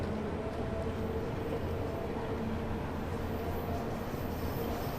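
A London Underground Bakerloo line train accelerates in the video game Train Sim World 2, with a continuous, even rail rumble and motor drone that holds steady for several seconds.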